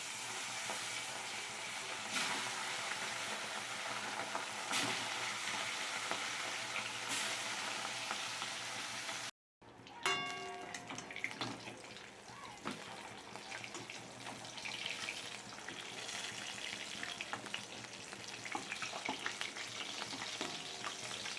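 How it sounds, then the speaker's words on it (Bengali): Catla fish pieces rubbed with salt and turmeric fry in hot oil, giving a steady, loud, close crackling sizzle that breaks off briefly halfway, then resumes with faint clinks. No one speaks. "তো মাছটাকে আগে আমি নুন হলুদ মাখিয়ে নিয়েছি, এবার ভেজে নেব।"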